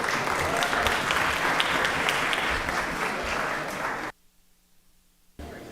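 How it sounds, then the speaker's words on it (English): A round of applause in a state legislative chamber, dense and steady for about four seconds, then cutting to near silence before sound resumes briefly at the end. "Give them another round of applause."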